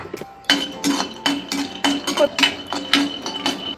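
Peanuts dropped into a kadai on a stove, a series of sharp clinking and rattling hits against the metal pan, close and fairly loud, coming in uneven bursts.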